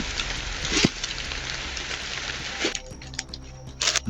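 Steady rain falling outdoors, a broad continuous hiss with a few louder drips and knocks close by, and no talking.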